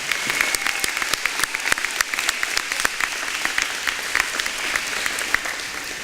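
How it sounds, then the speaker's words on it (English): Audience applause at a high school senior signing day for the class of 2019: dense, sustained clapping from a sizable crowd, loud and steady throughout with sharp individual claps standing out. "I'd also like to extend a huge round of applause for everything you've done and will continue to do."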